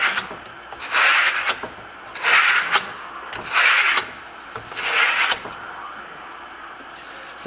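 A steel trowel burnishes marmorino Venetian plaster on a wall imitating Tuscan limestone blocks, giving four firm rasping sweeps about a second apart, each swelling and fading, close and clear with no talking.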